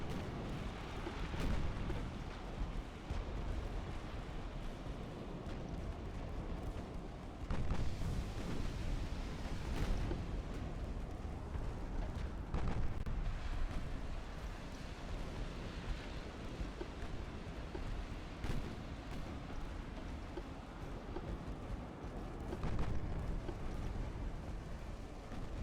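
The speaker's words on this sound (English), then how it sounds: "Was that a torpedo? Ammo detonation." In a naval battle game set around 1900, ship ammunition detonations and shell explosions rumble continuously amid a dense, roaring wash of battle noise, with several heavier booming surges.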